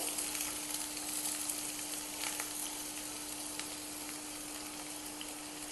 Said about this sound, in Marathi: आपण इथे तेलात बारीक चिरलेला कांदा टाकून घेऊया सगळ्यात पहिले